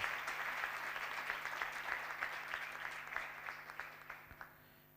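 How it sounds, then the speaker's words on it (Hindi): Church congregation breaking into sustained applause to welcome the sermon, a dense wash of many hands clapping steadily for several seconds and tapering slightly toward the end, with no talking over it. "जोरदार तालियों में कलाम को वेलकम करें"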